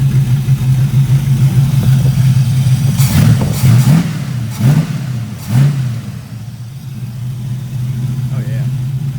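An LS-swapped 1975 Pontiac Firebird Formula rumbling loudly at a steady idle, then blipped in three quick revs mid-clip before settling back to idle, close to the microphone.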